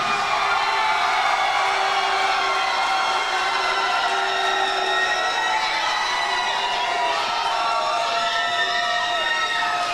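Loud, sustained crowd cheering at an MMA fight with whoops and shouts, a steady roar of many voices filling the space for the whole stretch.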